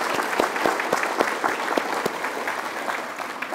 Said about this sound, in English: how about a round of applause for our catering staff for this great breakfast?